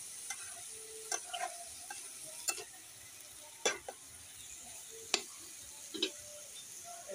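Small fish are stirred in a frying pan, producing faint, sparse scrapes and clicks of the utensil against the pan at irregular intervals over a quiet background.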